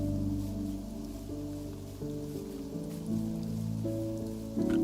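Steady rain patters across the ground in a survival-style modded Minecraft world, a continuous, even hiss with a faint layer of tonal game music running beneath it throughout.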